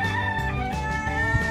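A farm chicken clucks and crows close by, a steady run of throaty calls with harmonic tones throughout and a slightly louder burst near the end.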